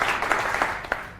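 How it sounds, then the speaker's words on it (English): A short burst of audience clapping for a speaker at a community meetup, several distinct claps standing out over a fading round of applause, fairly close and loud, no talk over it. "if you can join me by giving Justin a big round of applause, please"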